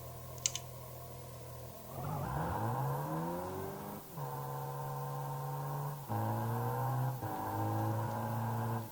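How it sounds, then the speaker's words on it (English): Flat-plane V8 car engine in a driving video game, revving hard with rising, shifting harmonic tones in several bursts, loud and close with no talk. "flat plane V8. Sounds like an F1 car."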